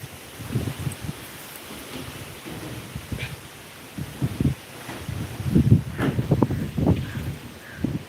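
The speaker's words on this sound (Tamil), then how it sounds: "சரியான மழைடி. மழை பெய்யுதா?" Heavy rain pouring outdoors, a steady broadband hiss with gusty wind buffeting the microphone and occasional louder surges.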